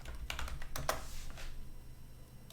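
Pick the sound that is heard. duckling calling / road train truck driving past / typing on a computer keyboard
typing on a computer keyboard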